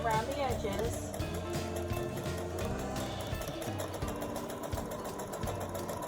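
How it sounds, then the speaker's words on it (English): A sewing machine runs around the edges of a fabric face mask, its rapid needle chatter humming continuously and close, with someone talking over it throughout. "Now I'm going to sew around the edges."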